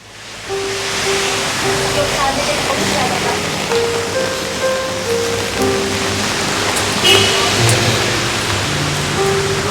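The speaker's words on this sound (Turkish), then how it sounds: "Yağmur çok yağıyor." Heavy rain pours steadily on a hard surface throughout, a dense continuous hiss with faint voices talking underneath.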